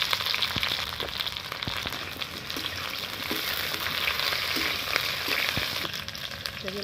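Okra, eggplant and drumstick pieces fry in hot oil for sambar dal, giving a steady loud sizzle throughout with occasional soft stirring knocks, close up and with no talk.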